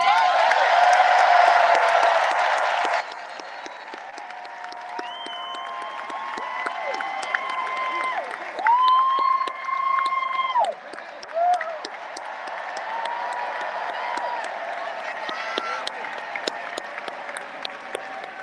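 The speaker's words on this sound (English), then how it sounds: "Let's give a special round of applause to our First Lady" A large crowd applauds and cheers for First Lady Jill Biden at a presidential event. A loud burst of clapping fades into a sustained roar of cheers and whoops that carries on for a long stretch.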